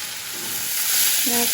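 Ash gourd thoran with grated coconut is stirred and dried out in a hot pan, giving a steady close sizzle and hiss with a brief scrape of stirring near the end.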